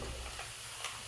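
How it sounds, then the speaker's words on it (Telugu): Peanuts frying in hot oil for a Telugu snack mixture, a continuous dense sizzle and hiss throughout a brief stretch, close and steady with no talking. "తర్వాత అదే ఆయిల్ శనగగింజలు వేసుకొని వేయించుకొని"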